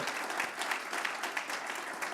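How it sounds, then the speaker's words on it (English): Audience applause after a talk at a commercial spaceflight conference, a short burst of dense, steady clapping from a seated crowd, fairly loud and without voices. "You can give him applause if that's what you'd like to do."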